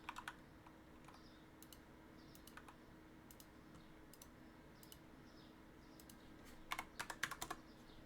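Quiet keystrokes on a computer keyboard fitted with a wrist rest, scattered clicks that grow into a brief quick burst of typing near the end over a steady low hum.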